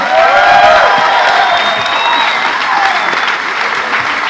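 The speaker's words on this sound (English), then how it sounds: "Give Gary a round of applause, everybody." Keynote conference audience giving a round of applause with scattered cheers, a steady loud wash of clapping throughout.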